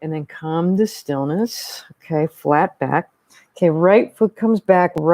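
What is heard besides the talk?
No everyday noise stands out behind the speech.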